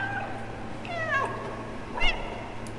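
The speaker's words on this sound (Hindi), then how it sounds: "मैं सिर्फ इस टाइम म्याऊं ही कर सकता हूं" A cat meows twice in the video game Stray, with clear rising and falling calls over a steady low game hum and no talking.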